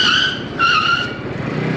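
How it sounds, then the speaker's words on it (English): A Peugeot Django's rear tire skids and squeals under hard rear braking at about 40 km/h, giving two close, loud, high-pitched screeches that run into each other. "So it is skidding, it's biting hard, very responsive, but it is going to skid."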